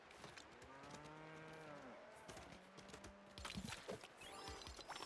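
Cattle in a farming video game moo several times in drawn-out, pitch-sliding calls, loud and close, with light game clatter between them.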